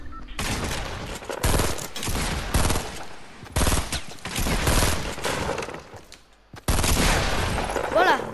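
Loud, close bursts of rifle gunfire in Fortnite Battle Royale on PS4 come in rapid clusters separated by short lulls, with some crashing impacts mixed in.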